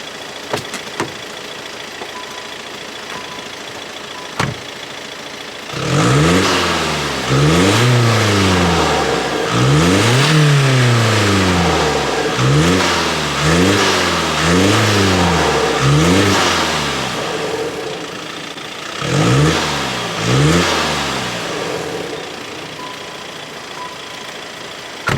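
A Skoda Octavia vRS 2.0 TDi diesel fitted with a performance induction kit revs repeatedly, about a dozen loud, close blips rising and falling in quick succession with an intake whoosh, after a quiet idle and before a final pair of revs.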